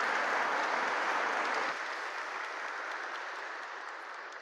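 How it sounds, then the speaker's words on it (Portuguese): A congregation claps at a church homily: a dense, even burst of applause that drops slightly in level partway through and then slowly tapers, with no talking over it. "Palmas para ela"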